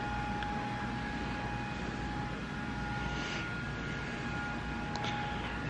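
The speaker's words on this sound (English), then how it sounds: "My computer is loud." A loud computer fan runs nonstop, giving an even whooshing drone with steady tonal whine lines throughout, close and unchanging.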